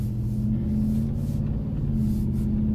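Deep, steady engine drone heard from inside the cabin of a moving Nissan Titan pickup truck with a Flowmaster exhaust, a constant low rumble with a humming exhaust tone and no talking.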